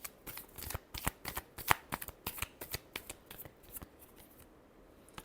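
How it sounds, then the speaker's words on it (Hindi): Tarot cards being shuffled, with a rapid series of crisp riffling flicks and soft slaps in uneven bursts, close and fairly loud, with no talking. "लिब्रा के लिए। Last shuffle."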